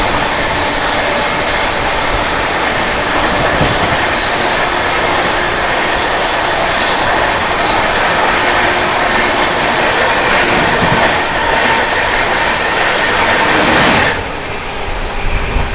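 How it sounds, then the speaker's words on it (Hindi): CR Rajdhani Express overtaking at high speed, a loud sustained rush and rumble of the passing train close by, holding steady before dropping off near the end. "अपनी सीआर राजधानी एक्सप्रेस ओवरटेक कर रही है।"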